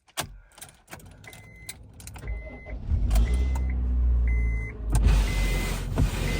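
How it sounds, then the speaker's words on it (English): Windscreen wipers on a car start scraping across an icy windscreen just after the engine starts, with loud motorised whirring and scraping sweeps that rise and fall over several seconds, heard up close from inside the car. "if I start up the car and put on the windscreen wipers, this is what happens."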